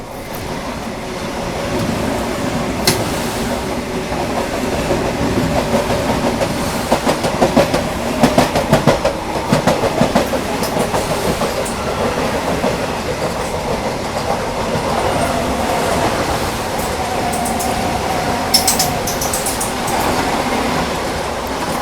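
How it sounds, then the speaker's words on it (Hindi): The Trivandrum–Kasaragod Vande Bharat Express passes close alongside, a loud continuous rumble of rolling wheels with rhythmic clickety-clack over rail joints throughout, heard from a moving train. "तो ये बगल से ये क्रॉस हुई त्रिवेंद्रम कासरगोड वंदे भारत एक्सप्रेस"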